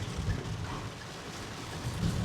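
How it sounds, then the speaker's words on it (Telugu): Heavy rain pours steadily in Bhimavaram, a dense, even roar of water with low rumbling underneath and no voices. "ఏందో ఈ వర్షం ఇదేం వర్షం రా నాయన"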